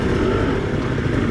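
A motorcycle revs on a wet, muddy track in the rain, a close, loud, steady engine drone that fills the short moment without pause.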